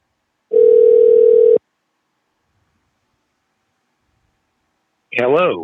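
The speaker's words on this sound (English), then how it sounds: "let's call Joel" A phone call rings out with one steady electronic tone lasting about a second. Silence follows, and then a voice speaks.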